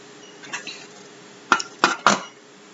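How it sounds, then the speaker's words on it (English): Ingredients for a rainbow smoothie are pushed into a blender jar, giving a few soft knocks followed by three sharp, close clinks of hard items against the container in quick succession, with no talking. "Now I'm stuffing my blender"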